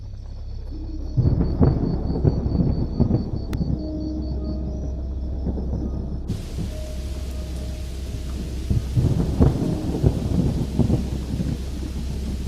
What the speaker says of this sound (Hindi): बाहर आंधी तेज है।